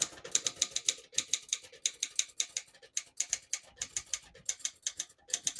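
A 1956 Underwood Universal portable typewriter types in a quick, uneven stream of crisp key strikes, close and fairly quiet, with brief pauses between bursts.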